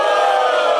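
Crowd at a rap battle cheering and shouting for the rapper Grafite, a dense, loud, sustained roar of many voices filling the whole moment.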